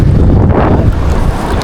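Strong, steady wind roars and buffets across the microphone while fishing with a net, a dense continuous rumble with gusty low-end thumps throughout.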